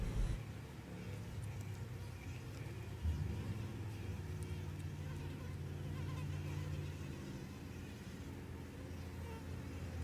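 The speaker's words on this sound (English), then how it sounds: "The bees on the outside are acting rather strange since they've had no queen." Honey bees from a queenless hive buzz around outdoors, a low, steady, moderately faint hum with individual insects droning past and a vehicle rumbling in the background.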